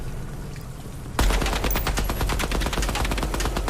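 Automatic gunfire in the video game Project Moon, the trigger held down: after a second of quiet room hum, a loud, dense, sustained burst of rapid shots runs to the end.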